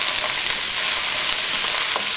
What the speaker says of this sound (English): we're just going to stir fry that for about 30 seconds